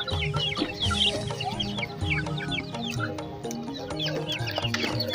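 Several two-month-old chickens cluck and chatter nearby at a market, overlapping short calls in an uneven, busy rhythm with farmyard background.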